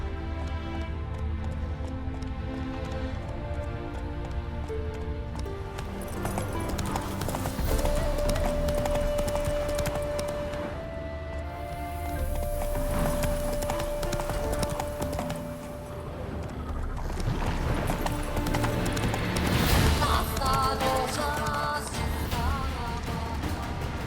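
Horse hooves gallop in a steady rhythmic clip-clop with occasional whinnies, set against game sound effects and music, in The Witcher 3.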